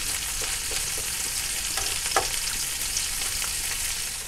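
Beef burger patties frying in a pan give a steady, close broadband sizzle with occasional small pops and spatters, continuous and without any voices.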